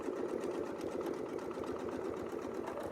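Sewing machine stitches a quilt block along a ruler in a steady, fast mechanical chatter, close and continuous for the whole stretch, with no voices.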